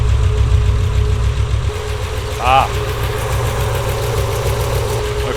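A Gen III HEMI V8 idles with a steady low rumble throughout, close by, with a brief vocal sound partway through.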